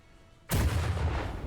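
A cannon in the strategy game Warhammer 40,000: Battlesector fires a single loud, booming shot that cuts in abruptly after a quiet moment and rumbles on with a broad, sustained roar.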